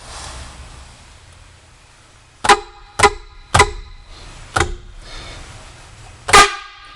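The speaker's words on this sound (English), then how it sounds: "Air horn, there we go." An air horn on a 1993 Blue Bird DTA360 school bus, sounded inside a garage in five short, loud blasts, four close together and one after a pause, over a low idle hum, with no voices.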